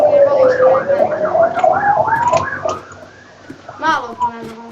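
An emergency vehicle siren in the Minecraft video game, rising and falling in a wailing pattern that loudly fills the first few seconds before fading, with a brief warbling burst near the end.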